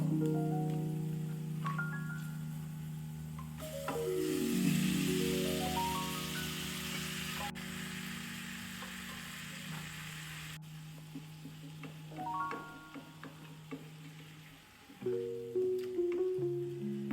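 Chicken pieces and onions frying in a pan for a Chinese-style chicken dish, a loud steady sizzle with a louder burst as the meat goes in, then stirring scrapes and clinks near the end.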